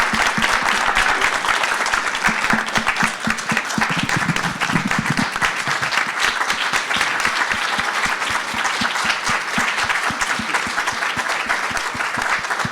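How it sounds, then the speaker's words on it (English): Sustained, dense applause from an audience at a medical conference on appendix cancer, loud and continuous with many overlapping hand claps that hold steady throughout. "So another round of applause."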